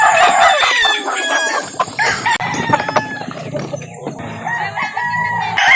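Roosters at a busy chicken market crowing loudly and close, with overlapping clucks and calls from many birds all around.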